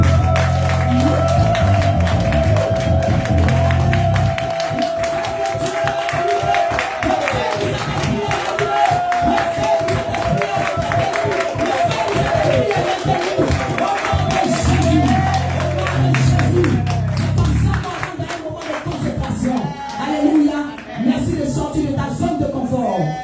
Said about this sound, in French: Acclame pour Jésus-Christ de Nazareth